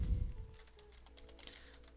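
Keys clack on a computer keyboard during a vector illustration session in Affinity Designer, starting with a firm press and then a light run of scattered taps, close and fairly quiet.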